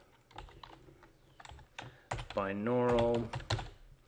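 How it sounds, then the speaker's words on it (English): Keys on a computer keyboard click in quick, irregular bursts close by, with a voice speaking briefly in the middle. "I'm going to go up here and type in demo"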